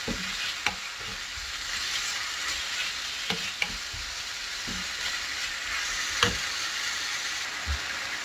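Food stirred in a sizzling frying pan while savoury Ramadan snacks are cooked, with a steady frying hiss and a scatter of sharp utensil scrapes and taps against the pan at irregular intervals.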